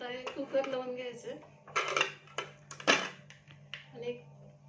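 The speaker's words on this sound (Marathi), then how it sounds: "आता हे कुकर लावून घ्यायचं" A pressure cooker of chole being lidded in a home kitchen gives several sharp metallic clanks and scrapes close by, with a voice in the background.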